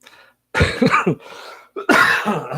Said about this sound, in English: As I cough into your ears again.